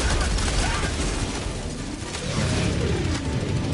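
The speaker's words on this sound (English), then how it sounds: "I'm shooting him!" Dense, rumbling video-game gunfire rattles continuously at close range with heavy booming low end, a constant barrage with no clear breaks.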